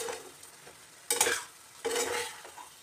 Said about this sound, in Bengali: একটু খুন্তিটা চালিয়ে নেব।